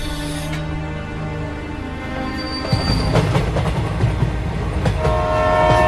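A cartoon-style train sound effect: a steady horn-like tone gives way to rising rumble and clatter as the train pulls away, loud and continuous without any voices.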